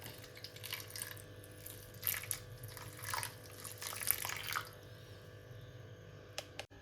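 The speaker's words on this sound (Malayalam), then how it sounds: "നമുക്കിനി ഓട്സ് കുതിരാൻ വേണ്ടിയിട്ട് കുറച്ച് വെള്ളം ഒഴിച്ച് കൊടുക്കാം" Water is poured over oats in a bowl, a faint trickling splash with a few soft drips and squishy movements, heard close and quiet.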